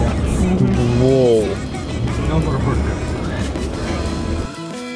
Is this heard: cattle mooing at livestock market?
no